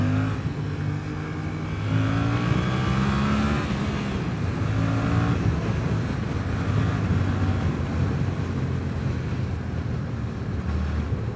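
Suzuki motorcycle on a riding-school course at a Suzuki festival, its engine revving up through rising pitches and shifting gears before settling, close and continuous under heavy wind rush, without talk.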